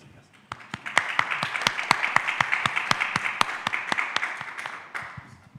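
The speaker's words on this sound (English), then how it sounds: "Big applause for Martin." Audience at a Kubernetes community conference applauds to welcome a speaker, crisp close claps over a broader crowd swell that builds quickly and then tapers off.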